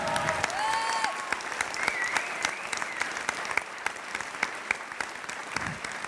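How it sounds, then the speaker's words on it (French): A business-club evening audience gives steady, dense applause for a guest invited on stage, with a few voices calling out briefly at the start, the clapping continuing evenly throughout. "je vais vous demander par contre un tonnerre d'applaudissements pour lui"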